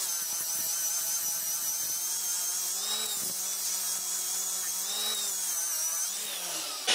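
An angle grinder fitted with a coral abrasive disc strips rust from metal, whining loud and steady throughout at close range, with slight shifts in pitch as the disc is pressed against the surface.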